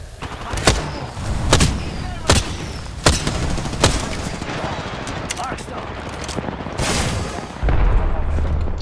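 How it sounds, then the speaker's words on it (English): Enemy gunfire in the Apex Legends battle royale game: sharp separate gunshots crack every second or so over a steady rumbling battle bed, loud and close, with a voice talking underneath. "The enemies are shooting at me."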